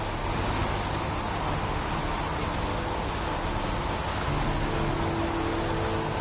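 Steady, dense rain ambience in the video game Heavy Rain, a continuous hiss of downpour on surfaces with a faint low hum beneath, unbroken and even throughout with no voices.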